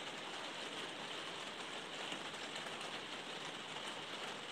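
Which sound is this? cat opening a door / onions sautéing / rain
rain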